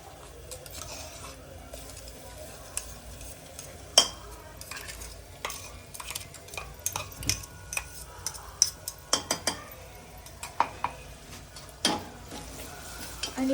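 Onion and ground masala paste frying in a pan for masala rice with rajma, low sizzle under repeated scraping and clinking stirs from a spoon, irregular taps and knocks, close and fairly quiet.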